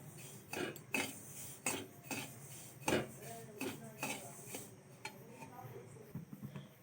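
Dry semolina being roasted over low heat in a pan, giving repeated sharp scraping and clinking of a spoon against the metal in an uneven rhythm, close and fairly loud, with no one speaking.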